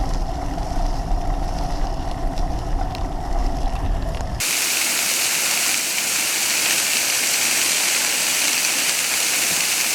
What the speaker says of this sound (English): Happened upon this waterfall right beside the trail along the Allegheny.